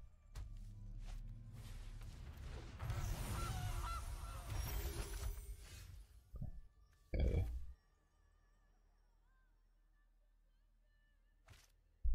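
A goose honk sound effect from the Gilded Goose card in MTG Arena, a digital card game, rises as a short loud burst after busy game effects, followed by near silence and faint clicks.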